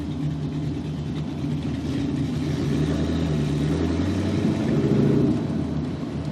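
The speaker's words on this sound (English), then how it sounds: "The engine purrs" A 1966 Mustang restomod hums with a low, even engine drone while driving, the steady mid-pitched rumble swelling slightly near the end without hard revving.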